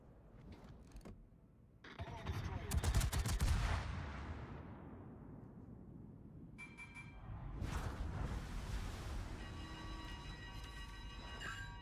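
Heavy naval guns of the cruiser Ibuki fire in a warship battle video game, a few booming salvos with long rumbling tails, the first bursts loudest and a later volley quieter, over faint background game sound.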